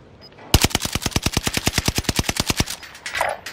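Rapid automatic gunfire from a weapon in the video game Call of Duty: Warzone, a steady burst of about twenty evenly spaced loud shots lasting two seconds, then trailing off into quieter game ambience.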